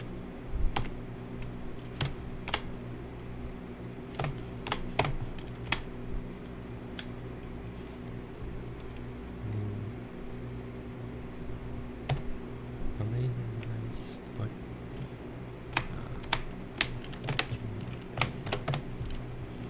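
Irregular clicks of typing on a computer keyboard during an Arch Linux install in a virtual machine, a steady run of quick keystrokes with short pauses, close and moderately quiet over a constant low hum.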